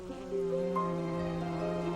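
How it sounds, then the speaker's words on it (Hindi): A worker honeybee forages among flowers in open meadowland, its steady buzzing hum close by and continuous, with no talk. "ये श्रमिक मधुमक्खी खाना जुटा रही है"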